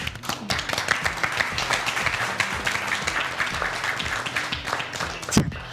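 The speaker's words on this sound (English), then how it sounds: "we'll give everyone a round of applause, all our teams" Quiz show audience applauding for the competing teams, steady clapping sustained at moderate level throughout with a sharp louder hit near the end.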